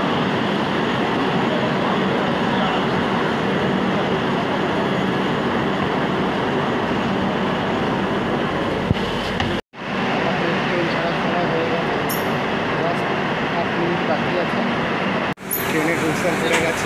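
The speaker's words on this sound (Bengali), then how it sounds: "ট্রেনের হুইসেল পড়ে গেছে, ট্রেন ছেড়ে দিয়েছে।" Passenger train pulling out of Sealdah station bound for New Delhi, a steady loud rumble of wheels and carriages running continuously, broken briefly by a couple of sharp dropouts.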